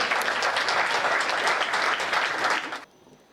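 Dense audience applause fills the hall at a Hindi stage event, loud and steady for nearly three seconds before cutting off abruptly into near silence.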